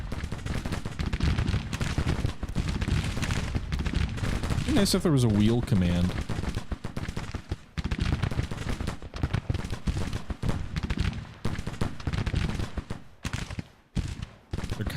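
Volleys of Civil War musket fire crackle steadily in the strategy game Grand Tactician: The Civil War, dense overlapping shots continuing throughout while someone talks over them.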